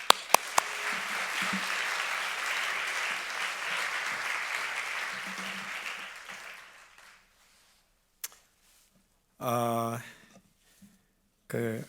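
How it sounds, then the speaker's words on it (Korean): Audience applause at a university chapel service welcoming a pastor, a steady broad wash of clapping for about seven seconds that fades out, followed by brief speech. "같이 힘차게 박수로 맞이하겠습니다"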